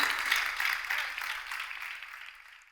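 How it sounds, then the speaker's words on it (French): Studio audience clapping on a game show, a bright wash of applause that fades steadily toward the end, moderate in level and heard without speech. "On applaudit Corée"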